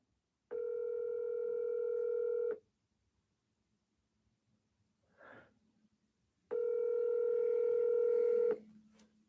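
Two long, steady telephone tones sound over a phone line while calling a real estate agent, each lasting about two seconds with a pause between them and a brief breath heard in the gap.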